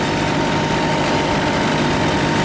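A motorcycle lying on its side after a crash idles in a steady, loud, close drone with a constant low hum and no voices over it.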